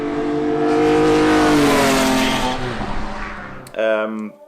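A track-prepped car engine revs hard and loud, its pitch rising then falling as it passes, followed by a brief voice at the end.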